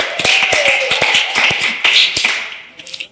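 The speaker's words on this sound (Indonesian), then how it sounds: "Tepuk tangan dulu dong untuk kita semua." Audience applause and claps from a comedy show crowd, a burst of dense handclaps that is loud and close, thinning out near the end.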